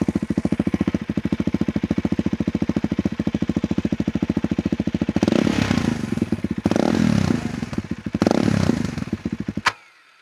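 A loud KTM 390 Adventure R motorcycle with a Norifumi Whoops aftermarket exhaust idles with a rough, rapid, steady pulse, revving briefly a few times before cutting off abruptly near the end.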